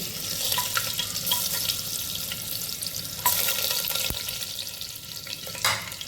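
Cumin and whole spices sizzling in hot oil while cooking Nagpur-style masale bhaat: a continuous crackling fry throughout, steady and close, with a few sharper spits and pops.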